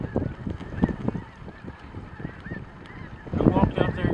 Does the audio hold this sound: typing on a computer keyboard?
no